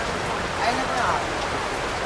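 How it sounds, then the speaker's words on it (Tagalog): Heavy rain during a typhoon pours steadily at an outdoor food stall, a dense, loud hiss of drops filling the whole clip with a faint voice buried beneath it. "sobrang lakas ng ulan dito ngayon"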